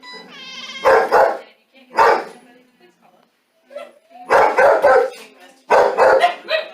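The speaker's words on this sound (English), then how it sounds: "back here trying to keep the dogs quiet" Several dogs bark in bursts in the back area of a rescue clinic, loud and close, with a quiet gap midway before more barking resumes.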